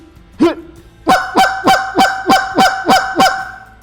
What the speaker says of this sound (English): What I want you guys to do is just practice hitting that single note cluck.